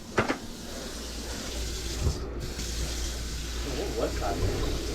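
Water running steadily into a kitchen sink and draining while it is being unclogged, a continuous close splashing rush with brief knocks and voices talking over it.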